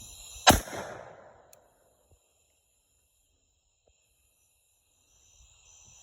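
A single loud gunshot from a Smith & Wesson handgun firing 500-grain rounds outdoors at night, a sharp crack with a short decaying echo, followed by near silence.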